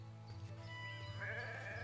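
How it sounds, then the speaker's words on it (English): Sheep bleat in the video game Renowned Explorers, a cute rising bleat standing out near the end over a steady low game hum and music. "These sheep are just so cute, you know?"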